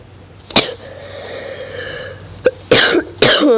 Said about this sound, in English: my coughs.